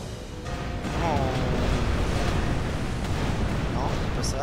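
Ship cannons fire in the naval video game Tempest, a rumbling broadside blast that swells after a brief pause and rolls on like a long booming wash beneath a shouted voice.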